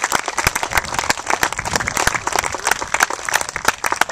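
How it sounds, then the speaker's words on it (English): A Tea Party crowd gives sustained applause for veterans, dense overlapping clapping that stays loud and steady throughout, with no voices over it. "A big Tea Party round of applause for the veterans."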